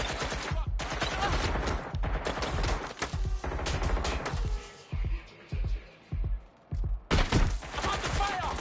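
Heavy automatic gunfire from Watch Dogs Legion rattles in loud, sustained bursts with short gaps and a few thuds, close and dominant, while voices speak between the volleys.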